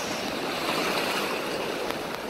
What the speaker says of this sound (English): getting hit by the waves